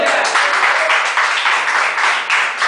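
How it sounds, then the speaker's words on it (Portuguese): A church congregation breaks into steady, dense applause during a Portuguese-language worship service, loud and close, sustained throughout with a lively clapping texture. "palmas para o Senhor Jesus."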